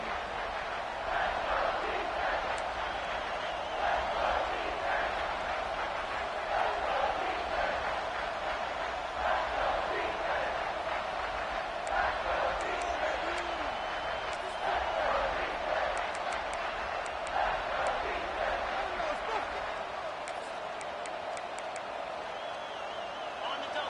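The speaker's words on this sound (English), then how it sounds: "Decibels rising as the crowd gets behind this defense on 3rd down." Football stadium crowd roaring steadily through a third-down play in an Oklahoma vs FSU game, a dense, continuous wall of cheering that swells and stays loud for the whole stretch, with commentary heard over it.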